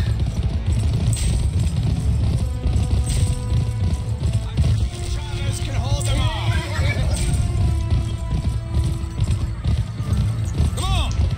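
Galloping hooves and horse whinnies in the Western game GUN, with rhythmic clip-clop and a couple of neighs under voices and game sounds.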